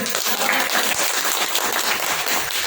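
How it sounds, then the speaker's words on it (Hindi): Loud, dense applause from an audience at a spiritual discourse on family harmony fills the whole stretch, steady and close without a break. "बजाओ ताली जोर से"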